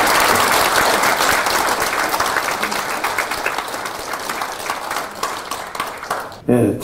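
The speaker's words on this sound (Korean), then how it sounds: "고성구 TV의 실무진들께 박수 한번 보내고 싶습니다." An indoor audience at a book concert breaks into sustained applause, many hands clapping in a dense wash that gradually thins and softens, with a brief loud burst just before the end.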